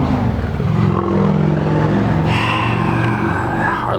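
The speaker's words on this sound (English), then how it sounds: "Harley Davidson's driving by" Harley-Davidson motorcycle rumbling past at close range, a loud steady engine drone with a rising whine as it passes by outdoors beside a parked truck.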